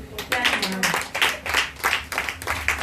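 A congregation clapping in praise of Jesus during a church service: a steady rhythmic clapping pulse, about three claps per second, fairly close with voices mixed in.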